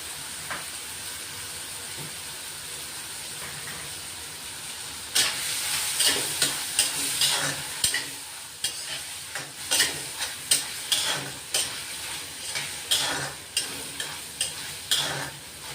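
Sweet corn kernels sautéing in a pan at home for sweet corn chaat, a soft frying sizzle that turns into repeated rhythmic scraping and stirring strokes near the microphone, with no talking.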